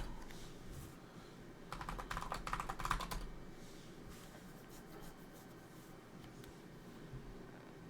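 Keys clack on a computer keyboard in a short quick burst of typing, fairly close, set against a quiet room hum with no voices.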